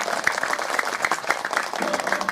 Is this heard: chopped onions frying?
no